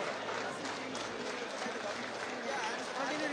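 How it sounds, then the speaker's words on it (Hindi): A dense crowd gathers at an Apple store opening in Saket's Select City Walk mall, Delhi, making a steady murmur of many voices with scattered clapping, while one person speaks over it. "जनता जनार्दनों की भीड़ लगी हुई है यहाँ पे"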